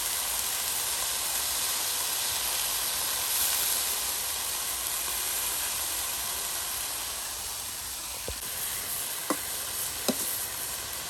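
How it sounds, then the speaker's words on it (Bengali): Potato and eggplant pieces frying together in a pan, with a steady broad sizzle that lasts throughout, joined near the end by a few sharp clicks. "আলু কুচি দেওয়া হলো, তার সাথে বেগুন টুকরা, আর একসাথে কিন্তু সব ভেজে নেওয়া হবে"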